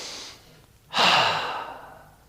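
During an exercise class, a single breath comes in softly, then a fuller exhale follows and fades out, close and quiet with no talk over it.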